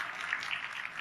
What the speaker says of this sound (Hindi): ताली बजाओ यार इनके लिए सबसे।